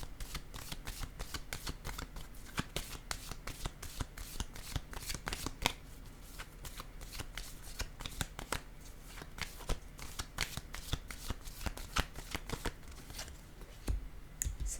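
Tarot cards are shuffled by hand in a steady run of crisp riffling and flicking bursts, close and fairly quiet, continuing without pause throughout.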